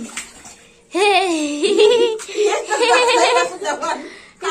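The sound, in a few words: water poured during a cold bath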